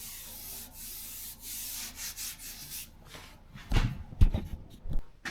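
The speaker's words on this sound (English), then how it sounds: "A little bit of sanding right there to do." Hand sanding clear coat on a 1976 BMW 2002 body produces a series of rhythmic rubbing strokes, soft at first and then several louder, scratchier passes close by, with no talking.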